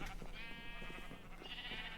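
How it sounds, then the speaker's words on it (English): Faint Minecraft sheep bleating, a short wavering bleat or two, soft and close with no speech over it. "Sheep, would you get out of the way?"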